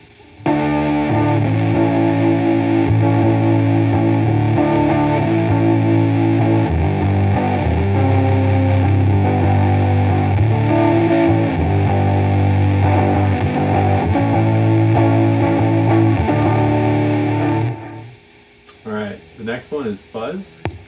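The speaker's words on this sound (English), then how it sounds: "Next position is distortion, so more clipping." Sustained, heavily clipped chords ring out from an electric guitar run through an Arduino-based on-board distortion effect, a thick buzzing tone held for most of the stretch before it cuts off and a few brief sounds follow.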